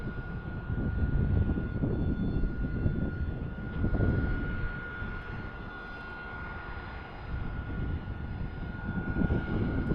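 A Delta Airlines Embraer E-175 jet at Tucson International Airport gives a low, steady engine roar at moderate distance, swelling and easing slightly throughout.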